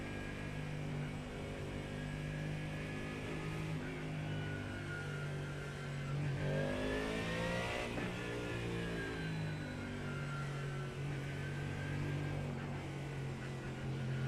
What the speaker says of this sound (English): I hit the gas too early here and ended up spinning the Aston out